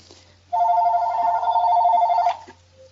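A mobile phone rings indoors with one sustained electronic tone lasting under two seconds, clear and fairly loud, then cuts off into quiet room hum.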